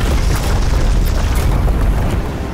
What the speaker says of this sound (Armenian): Այն ինչը, որ պետք է պայթեր, արդեն տրաքեց։